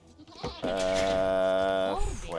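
A goat in Age of Empires II gives one long, wavering bleat, loud and close, lasting over a second as a game sound effect, with brief soft noises before it.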